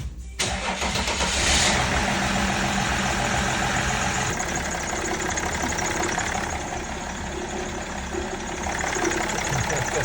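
A car engine cranks and starts after a newly installed turbo, settling into a steady, loud, close idle that drones on with a slight rasp throughout.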